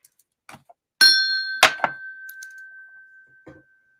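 A single bright bell ding rings out and lingers with a long, fading tone, surrounded by a few faint clicks and knocks.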